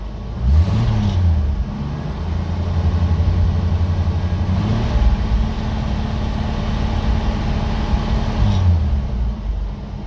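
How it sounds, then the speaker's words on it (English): A Jeep CJ-7 engine idling on its idle circuit just after dropping off high idle, a loud, close, steady low rumble with a few brief swells in pitch, no talking. "We just dropped off of high idle, which means the choke is turned off and we're on the idle circuit."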